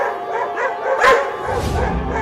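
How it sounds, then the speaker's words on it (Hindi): Two dogs bark and yip loudly in a cartoon scene, a sharp burst near the middle and more barking after it, with no one talking over them. "चिंकी, अब मुझे डर लगने लगा है, कहीं ये दोनों कुत्ते हमें काट लिए तो।"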